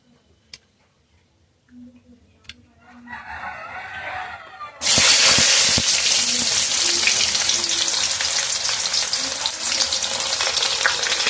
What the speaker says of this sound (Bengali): তারপরে কিন্তু পেঁয়াজ দিয়ে শুকনো লঙ্কা দিয়ে ভালো করে ভেজে নিতে হবে